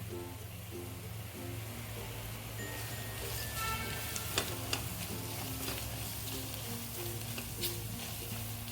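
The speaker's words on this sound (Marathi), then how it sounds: "मिडियम गॅसवर आहे सर्व मसाले परतून घ्यायचे आपल्याला हलवत राहायचे" Spices, salt and fresh coriander sizzle in a pan over a medium gas flame for a spicy kat vada curry, a continuous close frying hiss with repeated stirring scrapes and occasional sharp clicks.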